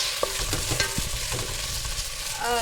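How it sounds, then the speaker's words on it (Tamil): Green chilies, tomatoes and onions sautéing with chicken in a pan, a continuous close sizzle with quick scraping stirs of a spoon, brief and steady, no talking. "பச்சை மிளகா தக்காளி வெங்காயம்லாம் வதங்கிட்டே இருக்குது"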